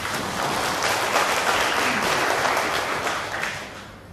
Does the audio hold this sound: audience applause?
yes